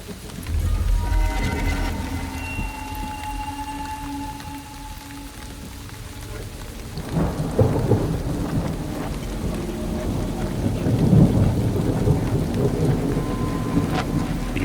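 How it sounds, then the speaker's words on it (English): A thunderstorm with heavy rain on a forested Bulgarian ridge: steady loud downpour throughout, with rolling thunder building and swelling louder in the second half as it draws closer. "The thunder approaches, closer and closer."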